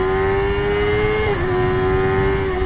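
Kawasaki ZX6R motorcycle engine held at high revs, a loud steady howl close by that dips briefly midway before climbing and holding again, with no talking.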